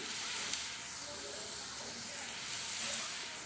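Vegetables and spices frying in ghee give a steady, close sizzling hiss that holds evenly throughout, with no talking.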